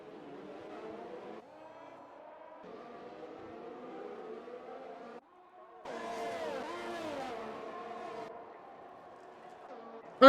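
In a racing video game, a Red Bull car pushes hard behind a Ferrari, its whining engine notes rising and falling under a person talking throughout, with a sharper burst of engine pitch near the middle.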